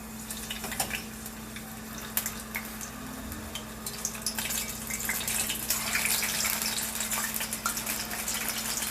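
Snack batter fries in a pan with a steady, close sizzle broken by scattered pops and crackles, and no one speaks over it.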